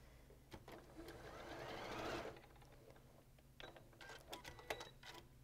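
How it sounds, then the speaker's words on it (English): A sewing machine stitches a quilt in a steady, fast mechanical whir that swells and then stops, followed by lighter clicks and handling sounds from the machine. "Machine is feeling better. We're going to sew."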